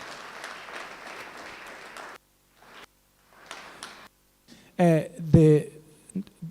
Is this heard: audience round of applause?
yes